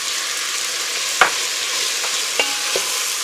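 Carrots and onions frying in a pot for corn chowder, a steady sizzle running throughout with a few sharp spoon-stirring clinks and scrapes standing out briefly.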